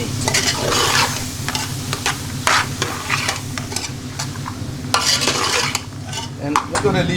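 Potato pieces fry and sizzle in a pan in a busy Indian vegan curry kitchen, with a steady hiss broken by repeated clattering strokes of a spoon stirring them, close and fairly loud over a low hum.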